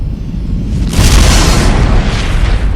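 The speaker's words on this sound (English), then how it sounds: "the star's core becomes very unstable, causing it to explode in a violent supernova" A deep, rumbling boom swells suddenly and then sustains as a broad roar, depicting a massive star's core collapsing into a violent supernova explosion.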